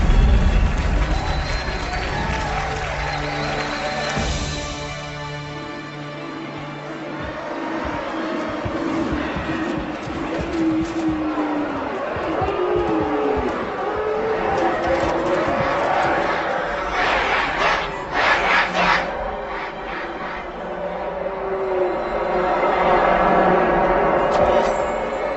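A large crowd cheers and roars continuously in a Halo 2 Anniversary cutscene, swelling and fading in waves, with shouting voices and music-like layers underneath.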